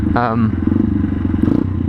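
Motorcycle engine running steadily during a training ride, a low continuous drone with some clatter, loud and close, under a talking voice.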